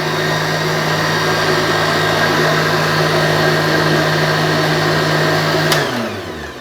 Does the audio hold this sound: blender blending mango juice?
yes